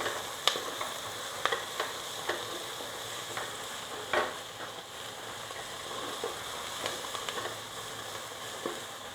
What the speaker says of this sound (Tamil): பட்டாணி, இது நல்லா வதங்கட்டும்